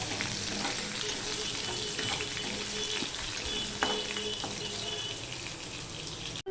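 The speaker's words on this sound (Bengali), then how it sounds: "রসুনটা আমি ভেজে নেবো" Crushed garlic frying in oil in a pan, a dense steady hiss of sizzling heard close and constant throughout, with a few faint clinks of a utensil and no speech.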